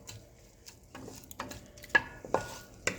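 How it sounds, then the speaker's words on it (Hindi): Chopped onion sautéing in oil in a pan over medium heat, with a faint, soft sizzle beneath scattered clinks and scrapes of a stirring utensil that grow sharper toward the end. "इसको मैं हल्का सा सौटे करूँगी"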